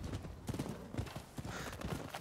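Horse hooves clip-clop in a quick, steady rhythm, fairly quiet and close, for a couple of seconds, in the video game Rise of the Ronin.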